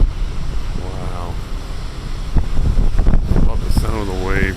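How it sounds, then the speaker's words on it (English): Heavy surf booms and rumbles along the rocky coast at Beavertail Lighthouse, a continuous low roar with wind noise, as someone speaks excitedly over the crashing waves. "Love the sound of the waves, man."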